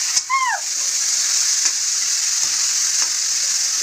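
Pork sizzles and fries in a kadai, a steady bright hiss with occasional stirring scrapes, close and continuous, with a brief squeaky sound at the start.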